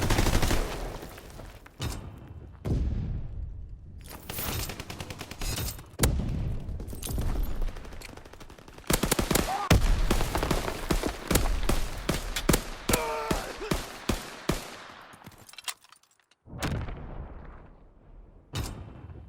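An MP40 submachine gun fires in a World War II video game match on a Sandbox map in Domination mode, loud rattling bursts and single shots recurring with short pauses, alongside other distant gunfire and booms.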